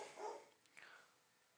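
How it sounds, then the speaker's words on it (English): Dogs bark somewhere in the background, two short faint barks under a second apart, then quiet, with no one talking. "my dogs are in the background"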